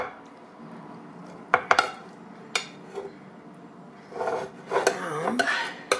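Brussels sprouts with diced ham being served onto a dinner plate beside beef short rib: several sharp clinks of a spoon against the dish, with spoon scrapes and soft rustling between them, close by and moderately quiet.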